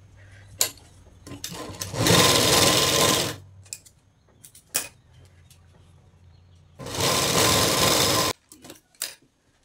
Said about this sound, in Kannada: ಈ ರೀತಿ ಫೋಲ್ಡ್ ಮಾಡಿ ಸ್ಟಿಚ್ ಮಾಡ್ತಾ ಇದ್ದೀನಿ.